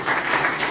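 A room of attendees at a live investment meet-and-greet in Toronto applauds in a brief, dense, even wash of many hands clapping at once, moderately loud, with no voices.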